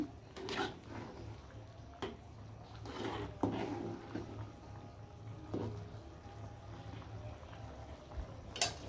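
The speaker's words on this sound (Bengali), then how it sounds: "মাংসগুলো সিদ্ধ হয়ে যাচ্ছে আরও সিদ্ধ করে নিব" Country chicken meat boils in a pot with a quiet, low simmer, broken by a few sharp clanks and scrapes of stirring.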